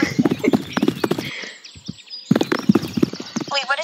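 A horse at a spring equestrian event whinnies and its hooves clip-clop, heard in short bursts alongside people talking nearby and faint birdsong.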